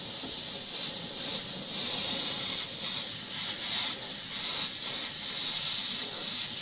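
An airbrush hisses in a steady, close spray of cerulean blue paint onto a steampunk skull, pulsing slightly in short repeated passes with no talking.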